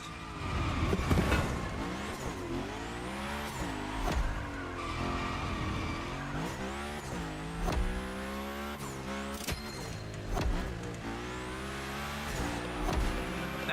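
A car slides and skids through a Forza race, with long tire squeals and drifting screeches over a revving engine, plus a few bumps and impacts along the way.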